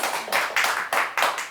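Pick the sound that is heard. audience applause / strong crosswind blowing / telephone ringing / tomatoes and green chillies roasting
audience applause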